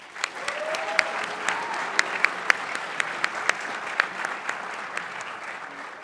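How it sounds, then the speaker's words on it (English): Applause from a school chapel audience, a sustained crowd clapping with a few sharp, distinct nearby claps popping out above the steady patter. "Give them a round of applause."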